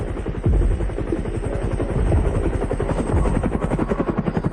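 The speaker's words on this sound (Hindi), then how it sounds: "क्या वो मिलिट्री हेलीकॉप्टर से अस्पताल आ रहा है?" A military helicopter arrives at a hospital, its rotor blades thumping in a fast steady beat with a loud whooshing wash, close and growing heavier.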